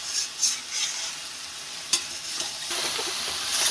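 A pan of cabbage curry with broken potatoes and spices is stirred over heat, with soft sizzling and a few spoon scrapes against the pan, steady and close.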